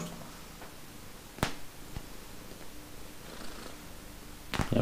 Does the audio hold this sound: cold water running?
no